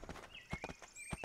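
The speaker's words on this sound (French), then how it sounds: "Un cheval de guerre." Hooves of a war horse clip-clop in Kingdom Two Crowns, a few distinct knocks at a walking pace, with a thin game tone sliding underneath.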